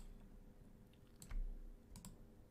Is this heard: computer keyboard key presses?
yes